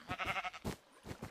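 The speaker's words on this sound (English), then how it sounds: "it's a brown sheep" A sheep in the Minecraft video game bleats several times in quick wavering bursts, clear and fairly close, with no talk over it.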